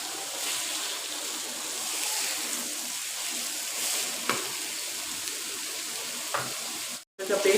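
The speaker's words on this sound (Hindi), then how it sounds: "और अब इसमें डालेंगे टमाटर जो हमने ग्राइंड किए हुए हैं।" Frozen ground tomato paste hits a pan of frying mutton keema, setting off a loud, steady close-up sizzle with faint stirring scrapes throughout.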